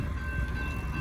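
A northbound grain train rolls past at a railroad crossing, a steady broadband rumble of wheels and cars holding level throughout, with a faint high tonal whine riding on top.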